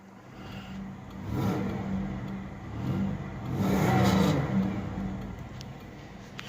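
A 1999 Buick LeSabre Custom with its 3800 engine revving up in two swells from a steady idle, a close mid-pitched engine roar rising and falling with no talk.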